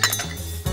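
Almonds dropped into the steel jar of a mixer grinder while preparing qaliya naranj: a quick, close clatter of hard nuts striking metal, followed by a brief rattle.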